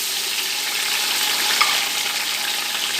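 Ginger, garlic and tomato sizzle steadily in hot oil in a pan where onions were just browned, a close, even crackle of frying with no talk over it.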